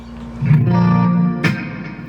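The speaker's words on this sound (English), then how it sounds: "let me show you how the reverb works" An electric guitar plays through a BOSS IR-200 with the reverb turned all the way up, giving a single sustained tone with a long, washy tail and a second short pluck ringing out into echoing decay.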